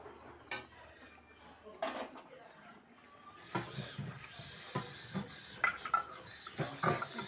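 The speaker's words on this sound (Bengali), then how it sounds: "এক এক করে এই মাছটা আমি দিয়ে দিলাম। মাছটা দিলাম, একটু ঝোলটা টেনে গেলে আমি নামাবো।" Pabda fish curry cooks in a pan with a soft low sizzle, broken by sharp clinks and scrapes of a utensil stirring against the pan, faint and close with a little talk.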